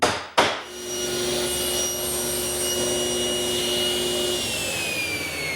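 Table saw trimming wooden cabinet stiles in a workshop: a brief thump at the start, then a steady, loud motor whine with bright sustained tones running for several seconds, no talk.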